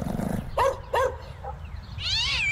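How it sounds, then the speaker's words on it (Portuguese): A cat meows loudly and close, two short cries followed by a longer drawn-out meow, heard alone indoors. "Gato."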